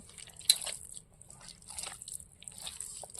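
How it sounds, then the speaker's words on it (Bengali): Chopped onion is worked together with mustard oil by hand, giving soft wet squishes, drips and small crunches in irregular bursts, close and fairly quiet. "এবার পেঁয়াজ কুচি নিয়ে নিয়েছি, এর মধ্যে সরিষার তেল দিয়ে দেবো। একসঙ্গে এবার ভালো করে মাখিয়ে নেব।"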